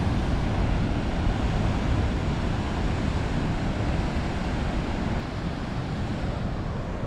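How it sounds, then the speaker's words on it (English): Huge ocean waves crash and roar continuously against the shore at Nusa Penida, Indonesia, a loud, dense wash of surf mixed with gusting wind buffeting the microphone, with no pause throughout. "Those waves are massively huge."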